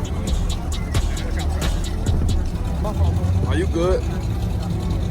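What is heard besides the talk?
Camaro car pulling up at a car meet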